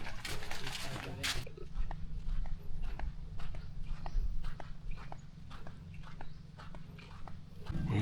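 A horse-drawn cart clip-clops along a beach on an island, steady hoof taps repeating close by over a low rumble, with a voice talking briefly at the start.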